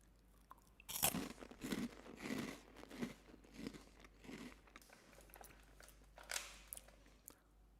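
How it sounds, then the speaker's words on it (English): Crunchy seasoned quinoa puffs chewed up close, a run of loud, crisp bites and crackling crunches in an irregular rhythm with brief pauses between mouthfuls, no talking. "That's nice and crunchy and so tasty."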